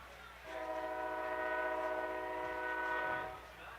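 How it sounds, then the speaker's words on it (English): A northbound train's horn sounds one long, steady blast near a high school football game in Warsaw, swelling and then fading as the train passes. "Train coming through."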